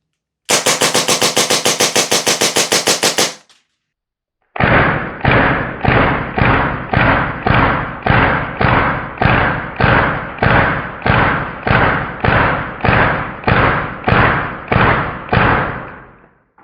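Tokyo Marui airsoft pistol fired in rapid succession, first a fast dense burst of about a dozen sharp cracks, then after a pause a steady string of around eighteen loud snapping shots, close and alone.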